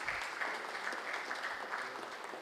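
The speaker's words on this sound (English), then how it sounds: "May we have a big round of applause," An audience applauds a guest lecturer at a structural engineering lecture, a fairly faint but continuous patter of many hands clapping throughout.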